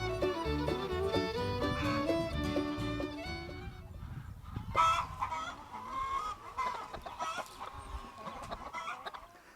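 A flock of about 1,000 chickens in electrified netting cluck and squawk in a steady chorus, with some musical tones mixed in at the start, continuing throughout at moderate volume.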